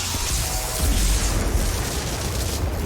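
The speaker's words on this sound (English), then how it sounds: "I think I'll open with the pain launcher." A pain launcher weapon fired in the video game Outriders gives a deep, rumbling boom that rolls on as a continuous low roar for several seconds.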